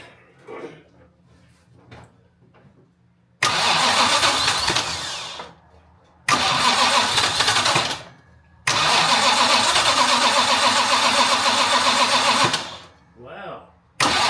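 A Jaguar MKII engine, spitting fuel and apparently needing its starter carb to run, cranks and catches in loud bursts. It revs briefly, stalls and restarts, then runs roughly for several seconds before cutting out, with quieter moments between.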